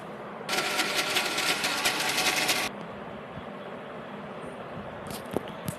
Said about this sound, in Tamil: இதை ஒரு மிக்சர் கிரைண்டருக்கு மாற்றி நன்கு அரைத்து எடுக்கவும்.